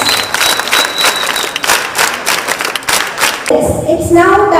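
A big round of applause for guests on the dais at a residential social welfare school and college event in Kolcharam, Medak district, dense and loud with many hands clapping together, then giving way to a musical tone near the end.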